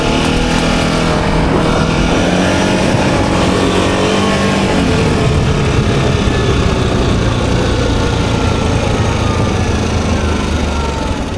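An Access 860 supercharged quad bike driving fast, its engine roaring loud and steady with rising and falling pitch as it accelerates, heard up close with wind noise throughout and no talk.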